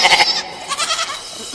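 Goats bleat loudly and close by in a village setting, a couple of wavering cries in quick succession with no talk over them.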